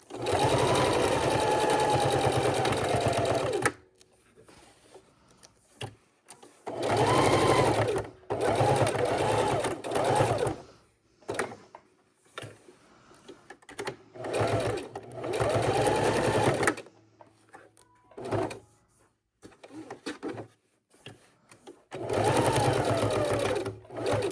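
A sewing machine runs in several bursts of crisscross stitching on a fabric bib, with short pauses between runs and a person talking during the quiet gaps.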